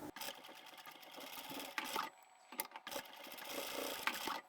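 Sewing machine stitching fabric for a phone pouch, running in fast close bursts with two short pauses between the stitching runs.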